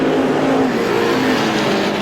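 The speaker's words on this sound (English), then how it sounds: "Car 78 goes to the outside of the 42 of Russ Dufanet." Stock cars racing at Star Speedway during a feature event, their engines roaring loud and steady at close range as the pack goes by, with no talk over the engines.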